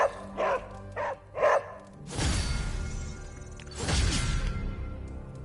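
A dog in the Marvel's Midnight Suns video game gives three short, clear barks in quick succession, followed by louder whooshing game sounds.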